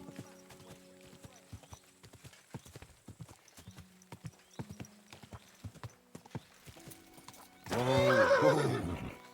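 Horse hooves clip-clop steadily in a medieval game, Kingdom Come: Deliverance II, followed by a loud, close whinny near the end.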